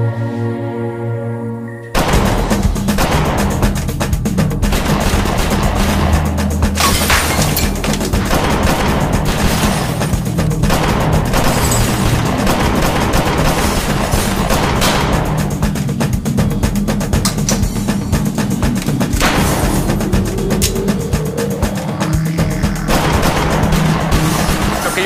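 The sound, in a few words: gunfire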